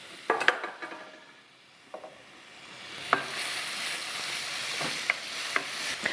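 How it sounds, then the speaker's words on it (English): Onions frying in a pan as a spoon stirs them for shrimp saganaki, a soft, steady sizzle that swells midway, broken by close scraping and clinking knocks of utensil against the pan, with no talk. "Onions. Again, these are going to cook"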